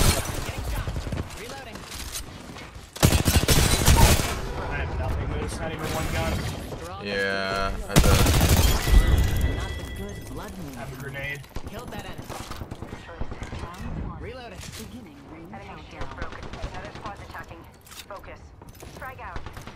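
Gunfire from the Apex Legends video game in a Season 16 match, with loud bursts and rapid volleys of shots layered over game effects and a player talking throughout.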